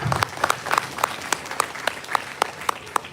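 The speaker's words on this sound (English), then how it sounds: "Give him a big round of applause." Applause at a World Space Week 2024 college inauguration program linked to SHAR, with a crowd's clapping underneath and several sharp, evenly spaced individual claps standing out near the microphone.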